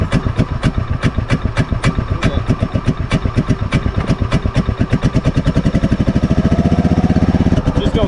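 A 2003 Club Car DS golf cart engine, recently seized, runs close by with a loud, steady chugging idle of rapid regular pulses that quicken slightly toward the end.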